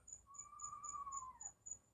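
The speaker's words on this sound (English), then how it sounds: "They got birds I've never heard before." Unfamiliar birds call outside a cruise ship room on the MSC World America: a faint, drawn-out whistled note that bends downward at its end, over a quiet series of evenly spaced high chirps.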